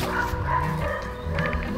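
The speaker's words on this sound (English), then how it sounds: "don't understand why dogs need to bark so much." A dog gives a couple of close, loud, yelping barks in a winter garden, a short outburst heard on its own without speech.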